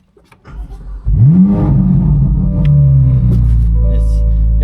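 A high-end car's engine cranks and fires up, then settles into a loud, close idle with a rising rev and a deep sustained rumble.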